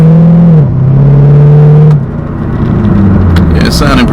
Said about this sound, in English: So what we did so far is just open up the exhaust a little, just to see how it does.